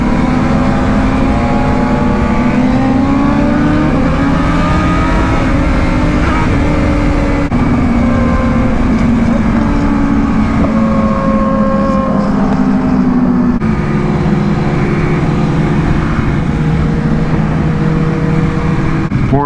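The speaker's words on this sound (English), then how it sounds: "I hadn't revved her up like that since I bought her." Ducati motorcycle engine revving hard at a large motorcycle meet in Atlanta, a loud sustained roar with rising and falling pitch and no break, crowd and other bikes faintly behind.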